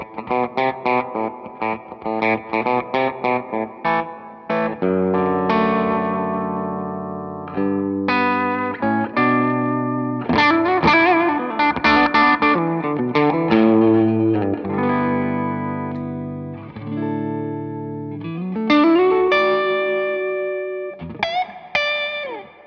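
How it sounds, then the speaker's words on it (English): An electric guitar through a Walrus Audio Fathom reverb pedal plays picked chords and single notes drenched in a shimmering, wavering reverb, with long swelling tails between phrases. "So we got the Fathom reverb."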